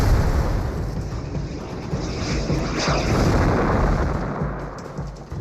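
A rocket explosion from an RAF Typhoon fighter-bomber attack during the Hochwald forest battle: a loud, sustained roaring blast with a rumbling, crackling tail that swells in the middle and slowly fades.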